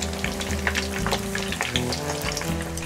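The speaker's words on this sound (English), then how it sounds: "When the oil reaches 160 degrees Celsius, I put the toast to fry." Sesame shrimp toasts fry in oil heated to 160 °C, shrimp side down, giving a continuous close crackling sizzle with dense popping bubbles throughout.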